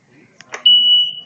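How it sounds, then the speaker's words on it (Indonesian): A Shercode motorcycle alarm going off during installation: a couple of short chirps, then a loud, steady high-pitched electronic tone that holds for most of the moment before easing off, close by. "jika pada saat sudah dipasang seperti ini, alarm tetap berbunyi seperti ini."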